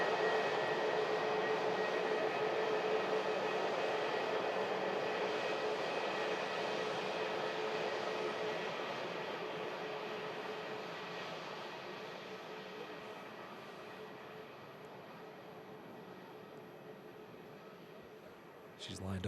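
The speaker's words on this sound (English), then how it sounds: "That's got an aircraft landing behind as well." A fixed-wing aircraft comes in to land at Manchester Airport, a steady broad engine roar and rumble that lasts throughout and slowly fades as it passes farther away.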